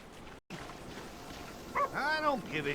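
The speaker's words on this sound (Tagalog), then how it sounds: "may aso. Puntahan natin yung aso." A few short dog barks and whimpers from GTA 5 sound near the end, following a brief gap in a low background murmur.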